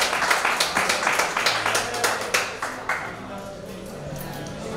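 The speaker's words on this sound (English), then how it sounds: "Give a round of applause for Jacob, everyone." Comedy show audience clapping, a run of sharp separate claps that thins out and fades after a few seconds.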